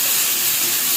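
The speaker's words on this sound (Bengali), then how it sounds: "এখন এটার মাঝখানে টমেটো দিয়ে দেবো।" Tomatoes dropped into a hot pan of browned ingredients, giving a steady, loud, close sizzle that hisses evenly without pause.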